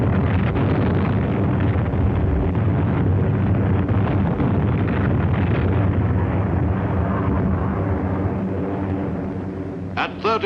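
Archival wartime film audio of B-29 bombers over Tokyo: a continuous heavy, rumbling roar of explosions and engine noise, loud and dense, fading slightly near the end.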